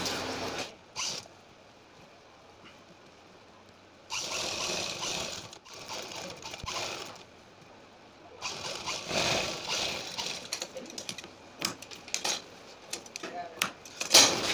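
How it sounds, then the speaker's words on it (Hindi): A sewing machine stitches piping along the back neck of a kurti in several bursts of steady whirring, close and fairly loud, separated by quieter gaps where the fabric is adjusted. "हम बिल्कुल पाइपिंग के किनारे से सिलाई लगाना शुरू करेंगे।"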